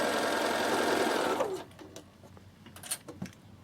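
A Bernina sewing machine stitches denim in a fast, loud mechanical whir for about a second and a half, then stops, followed by faint handling clicks and rustles.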